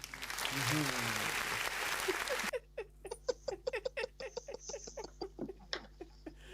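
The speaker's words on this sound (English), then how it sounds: "I should clap for myself" A lone person claps for themselves, about fifteen sharp, separate claps in an uneven rhythm after a burst of louder noise at the start, heard close.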